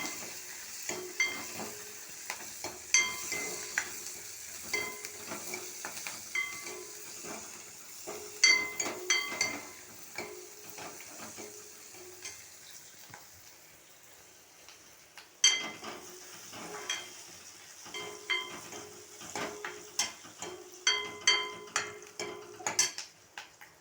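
Fennel, cinnamon, shallots and green chillies frying in oil in a pan, with a steady sizzle beneath repeated scraping and clinking from a stirring spoon, close by and without voices.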